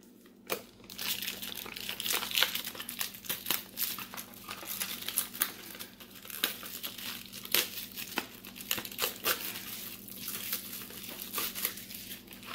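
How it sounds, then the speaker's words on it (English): Protective plastic film being peeled off the clear body of a DeeRC 9305e 1/18 4WD RC buggy, a close, continuous crinkling and crackling with sharp tearing snaps throughout. "there's a protective film over this body, so let's peel that off."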